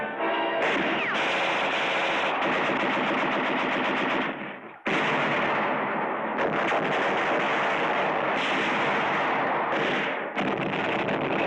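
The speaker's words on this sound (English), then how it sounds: "After thousands of rounds of machine gun," Sustained machine gun fire in WWII Pacific battle footage at Los Negros, a dense continuous rattle of rapid bursts, loud and near, with a brief break midway before the firing resumes.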